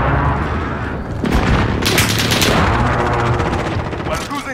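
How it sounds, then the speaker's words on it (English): Call of Duty: Modern Warfare combat rings out loud and close, with a dense wash of gunfire and booms and a sharp blast as a flashbang grenade goes off, continuing for several seconds. "Flashbang going up."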